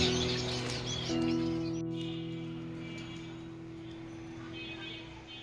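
Finch birds at a bird farm chirp in quick high bursts over a steady mechanical hum, with the calls thinning after the first two seconds and a brief faint chirp near the end.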